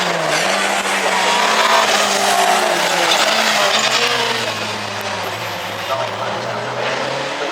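Special saloon race cars roar past on the Cadwell Park circuit, a dense, sustained engine drone with shifting pitch as they pass close by, under a commentator's voice.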